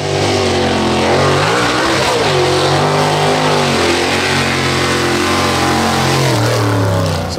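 A mud bog truck powered by a 583 engine revs loud and close, its deep exhaust note rising and falling through several surges, with no voices.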